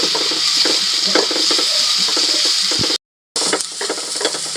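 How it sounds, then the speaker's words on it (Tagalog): Garlic and onion sauté in a pan as the base for Ilocano pork igado, a steady broadband sizzle with scattered stirring scrapes, close and continuous, broken by a brief dropout near the end. "medyo nag-light brown na yung bawang at sibuyas"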